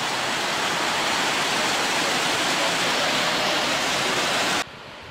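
A waterfall partly tucked under a road in the forest at Plitvice Lakes National Park roars in a loud, unbroken wash of water noise that drops off sharply just before the end.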